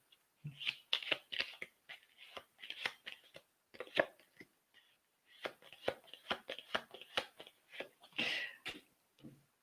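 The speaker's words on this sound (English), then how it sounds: "I'm going to count my cards out while you're deciding" Tarot reading cards counted out by hand, a close run of quick snapping flicks and soft slides in uneven bursts with brief pauses between.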